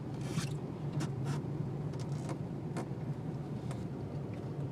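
A truck on all-terrain tires turning through fairly deep snow, a steady low engine drone with intermittent crunching and scraping bursts from the tires, close and continuous.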